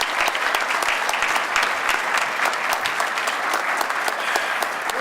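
Steady, loud applause from an audience at a Veterans Day commemoration held at the Hamilton County Library, welcoming a speaker, with dense continuous clapping throughout.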